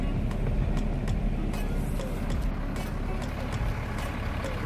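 A loud truck passes on a road at a Florida safari park, giving a rumbling engine drone that fills the whole stretch, with faint clicks and background noise and no clear talk.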